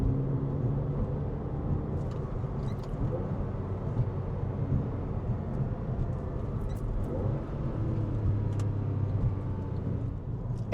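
A 2004 Porsche 911 Carrera 4S with all-wheel drive cruises along, its engine giving a steady, moderately loud low drone with road rumble and no voices.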